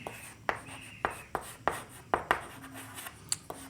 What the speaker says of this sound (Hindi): हम यहाँ लिखेंगे पुटिंग